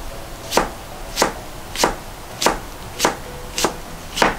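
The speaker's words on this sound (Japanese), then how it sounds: "あのリンゴ細かく、していきます。" A knife finely minces a skin-on apple on a cutting board for a sauce: seven crisp, evenly spaced chops land close and clear, one about every half second, with no talking.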